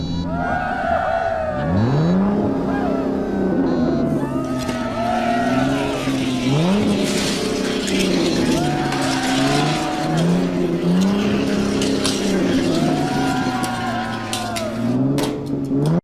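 Die-cast toy race on a track, a Pagani Huayra Roadster against an 84 Ford Mustang SVO, with steady engine-like revving and repeated rising whines filling the whole run, swelling in waves as the cars accelerate.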